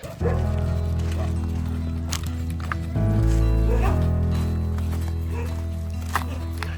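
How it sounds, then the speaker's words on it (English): Several dogs bark in scattered bursts over a steady low engine-like hum, the barks fairly close and overlapping at times. "So I'm going to go up this way to another pack of dogs that we've just discovered."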